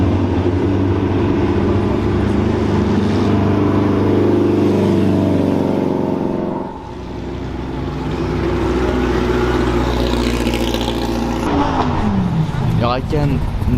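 A Renault 5 Maxi and an Alpine sports car driving past at a car meet, engine droning loud and close, dipping briefly then rising again with shifting revs, people talking over the noise.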